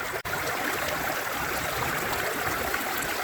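Water flowing steadily through a gold panning sluice, swirling into small vortices, a constant close rushing wash with a brief dropout near the start and no talking.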